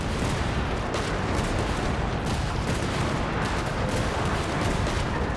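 Artillery fires continuously in the video game Genshin Impact, a dense, loud barrage of booming blasts and rumbling detonations that runs unbroken throughout.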